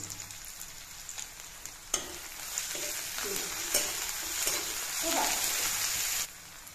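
Ginger garlic paste frying in oil alongside onions in a pan for an Assamese pork dish, a steady sizzle with stirring scrapes and a few sharper clatters, fairly faint and continuous.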